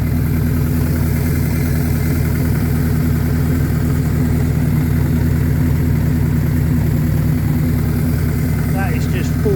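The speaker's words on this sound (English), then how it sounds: "The motor is so mechanically quiet." A Suzuki GS1000G motorcycle engine, unrestored and mechanically quiet, idles with a steady low rumble that runs unbroken and loud throughout the clip.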